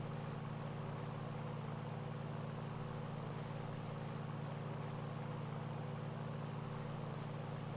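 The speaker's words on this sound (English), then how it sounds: "engine sounds not terrible" Piston engine of a SIAI-Marchetti S.205 light aircraft in Microsoft Flight Simulator 2020, a steady low droning hum with constant tone, even and fairly quiet throughout with no talk.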